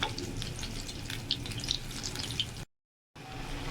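Cauliflower pakoras fry in hot oil, giving a steady soft bubbling sizzle with faint crackles, close and quiet, cut briefly by a moment of silence.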